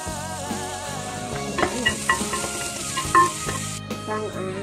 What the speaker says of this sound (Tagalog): So karon guys, init na ang oil. So ato na ibutang ang sibuyas at ang ahos.